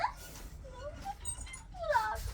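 A dog whimpers and yips in short, high, rising whines, several soft cries spread across the moment with faint background noise.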